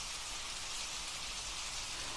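Rain falls outside, a soft, even patter that stays faint and steady across the short stretch with no voices over it.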